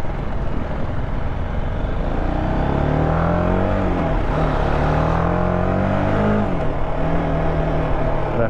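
Dense road traffic roaring steadily around an Apache RR310 motorcycle on a highway service road, with engine drone and passing vehicles blending into a loud continuous rumble.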